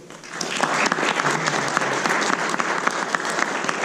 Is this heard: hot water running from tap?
no